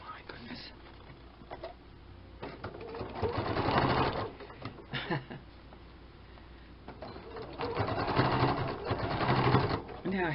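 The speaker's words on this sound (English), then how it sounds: "now I'm going to sew this across just part of it here, right here, before it's sewn up the sides" A sewing machine stitches across a paper bag pocket in a close, whirring run that swells in two longer bursts between short pauses, with soft background sounds and faint talk.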